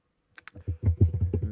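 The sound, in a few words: typing on a computer keyboard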